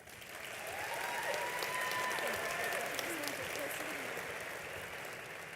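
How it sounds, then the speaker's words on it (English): A large audience at a 2022 high school graduation ceremony claps in a sustained round of applause that swells, holds steady and tapers slightly, with faint voices and cheers mixed in. "So let's thank everyone that made this ceremony possible by giving them a round of applause."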